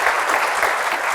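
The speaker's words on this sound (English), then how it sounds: "can we have a huge round of applause for our panelists?" Applause from a forum audience for a discussion panel, a dense, steady wash of many hands clapping together, loud and continuous throughout.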